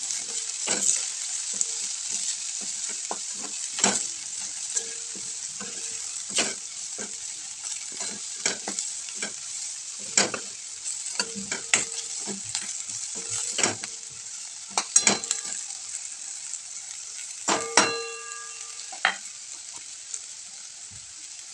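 Vegetables sauté in a pan with turmeric and red chili for a rustic cluster bean bhaji, a soft constant sizzle broken by frequent sharp clinks and scrapes of a spoon stirring, close and fairly quiet.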